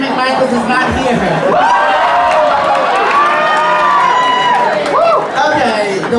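A nightclub drag show crowd cheers and whoops for the host, loud overlapping shouts and chatter with scattered clapping filling the room, voices close and bright throughout.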